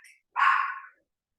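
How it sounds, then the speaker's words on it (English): A single short dog bark sounds indoors, sharp and close, preceded by a faint brief yip. "I apologize for my dog."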